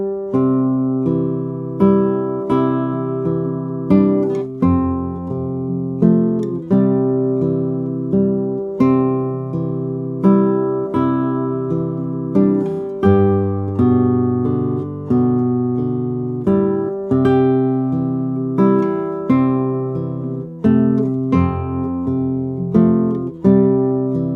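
A solo fingerstyle guitar arrangement is played, with melody notes and bass plucked together in a flowing, steady pattern. The guitar is close, full and alone with no talking.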